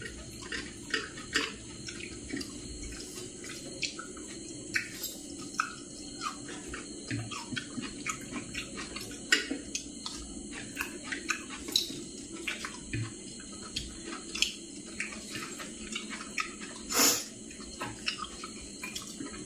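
Water is poured or runs from a tap at a family dinner, a soft continuous trickle with scattered drips and clinks of dishes, fairly quiet, with no talking heard.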